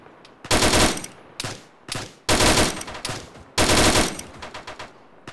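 Loud automatic gunfire in the military video game Arma during a ShackTac session: several long, rapid bursts separated by short pauses, each one cutting off sharply, with no talking.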